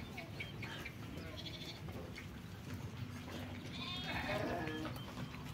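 Goats bleat in a shed after rain, a few scattered cries over a quiet, steady background hum, fairly faint and with no talking.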